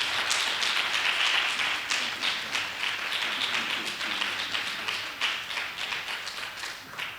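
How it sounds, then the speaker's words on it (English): Sustained applause for Congresswoman Brenda Lawrence at a mental health task force meeting, a dense steady wash of many hands clapping that runs the whole time at an even level. "Give her another round of applause, ladies and gentlemen."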